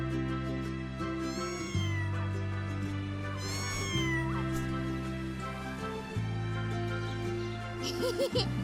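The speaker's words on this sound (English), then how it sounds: "Hear another cat sound." A synthetic cat meows a few times in the video game Mika and the Witch's Mountain, over steady, droning background music, the mewing rising and falling in pitch.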